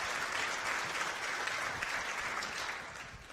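Audience applause at a high school band concert, a dense even wash of clapping that fades slightly at the end.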